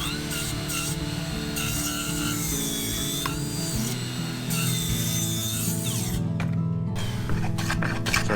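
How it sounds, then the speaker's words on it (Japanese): A carpenter's hand saw cuts wood during a stair renovation, giving a close, steady rasping and rubbing with a faint tonal ring behind it. The sound goes on throughout with small shifts in the strokes. "ですから奥の方を一回ノコメを入れてやって、そして正面からゆっくり切るようにします。"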